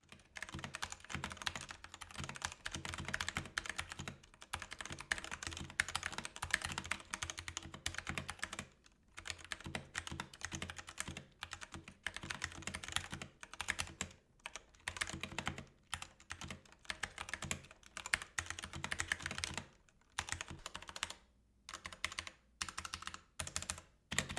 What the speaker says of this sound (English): the noise level on this linear keyboard isn't all that impressive